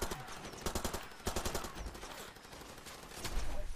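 A heavy machine gun rattles away in Far Cry 2, firing several long rapid bursts with brief pauses between them, loud and close, with booming low impacts near the end.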